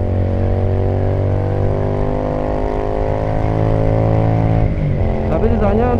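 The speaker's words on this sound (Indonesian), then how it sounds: "Apalagi dengar suaranya 2 silinder V-twin ini cukup merdu ya di telinga ya. Padahal ini masih menggunakan knalpot standar." Keeway V250FI two-cylinder V-twin motorcycle with stock exhaust while riding: a steady, loud engine drone with rich harmonic tone that shifts pitch near the end as the throttle changes, close and continuous.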